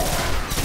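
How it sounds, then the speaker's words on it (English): A pulse rifle fires in a quick burst in the video game Destiny, a short, dense and loud crackle of shots at close range. "This pulse rifle."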